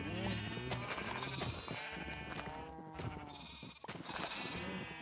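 Sheep in the Minecraft video game bleat repeatedly during shearing on a farm, several loud overlapping calls filling the whole stretch with no speech over them.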